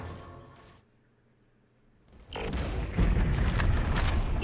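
Sticky grenade in the Halo 4 video game goes off with a sudden loud boom after a brief lull, followed by a sustained rumbling burst of noise and crackle.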